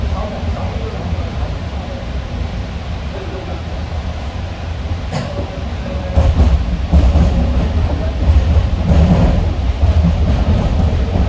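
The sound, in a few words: JFK AirTrain automated train riding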